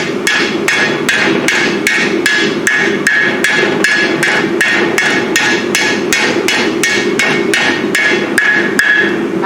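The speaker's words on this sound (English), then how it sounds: "using my rounding hammer" Steady rounding-hammer blows shape hot, flattened iron on an anvil, a fast ringing series of about two dozen evenly spaced strikes, loud and close with no talk.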